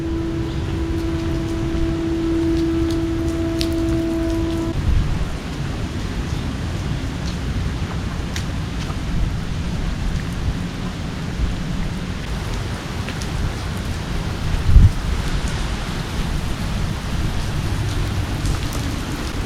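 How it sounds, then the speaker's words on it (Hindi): Steady heavy rain pours down throughout at a riverside temple, a dense continuous hiss with a brief low thump near the end and a faint tone early on. "It's raining heavily."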